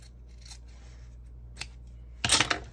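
Scissors snipping through a junk journal cover, with a few quiet separate snips followed by a louder, longer cut near the end, close up and with no talking.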